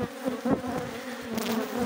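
Honeybees buzz loudly and continuously up close while a beehive is being divided into four colonies, the droning hum rising and falling as the bees move.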